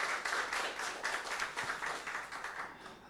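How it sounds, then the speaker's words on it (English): Audience applause after a presentation at an international business conference, steady dense clapping from a seated crowd that holds evenly and begins to thin toward the end. "Can I have a round of applause, ladies and gentlemen?"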